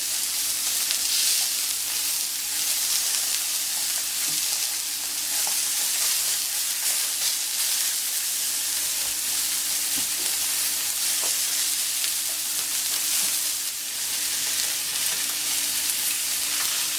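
Beef onglet steak searing on a plancha at 220 degrees, a continuous bright sizzle and hiss with faint crackles and occasional small pops, steady and close with no talking.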